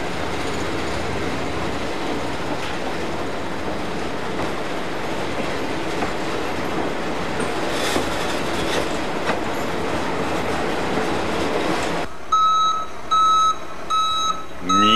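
Train wagons shunted in a rail yard, a continuous rumbling roll of rail cars with clattering wheels for most of the stretch, then a steady series of electronic beeps near the end.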